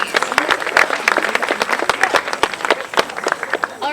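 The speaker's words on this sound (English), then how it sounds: "Let's give them a round of applause, please." An outdoor crowd at a Pride flag-raising ceremony claps for about four seconds, with dense, sustained applause and sharp individual claps throughout.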